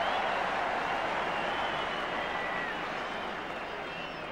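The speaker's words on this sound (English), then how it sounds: "listen to the cheer" A rugby crowd at a Scotland versus Ireland international cheers a player's return to the field, loud and sustained. The roar of a large stadium audience carries through the whole stretch with scattered applause and no talk.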